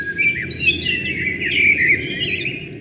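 A lark chirps in an open wheat field where it nests with its young, bright repeated twittering calls continuing throughout over a steady low background hum, no voices present.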